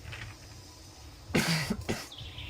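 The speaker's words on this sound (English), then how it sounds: "Sorry, cough." Two sharp, close coughs in quick succession from a man, loud against a quiet background.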